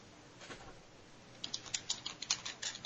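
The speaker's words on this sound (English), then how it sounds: "You're typing to them, I assume?" Someone types on a computer keyboard, soft and faint at first, then a brisk run of clicky key taps in the second half, close by with no talking.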